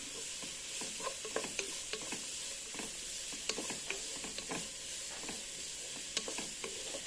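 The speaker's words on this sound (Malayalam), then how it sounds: "ഈ ഉപ്പും ചേർത്ത് കൊടുത്ത് ഈ വെജിറ്റബിൾസ് ഒന്ന് സോട്ട് ചെയ്തെടുക്കാം." Vegetables with salt sizzle in a hot pan for restaurant-style fried rice, a steady frying hiss broken by regular scrapes and knocks of a stirring spatula, close and fairly quiet.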